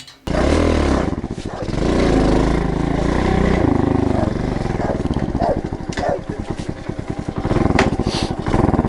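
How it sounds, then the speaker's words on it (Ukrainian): A village motorcycle running on homemade fuel made from plastic, its engine revving loudly close by with a rough, throbbing idle between revs. "Показав чоловік наостанок, як працює на бензині із пластику його мотоцикл."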